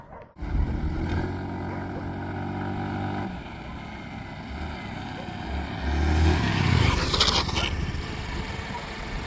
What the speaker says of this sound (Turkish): Şimdi arkadaşlar 40 ile giderken bir fren testi yaparız.